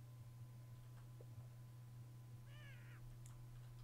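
A cat meows once in the video game South Park: The Fractured But Whole, a short, faint, slightly falling call over a steady low electrical hum, with no talking.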